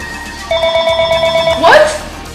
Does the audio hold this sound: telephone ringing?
yes